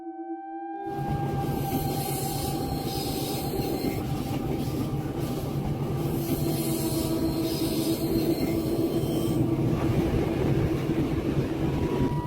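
A steady, loud rumble of a train heard from onboard, with a continuous drone and faint high whines running the whole time.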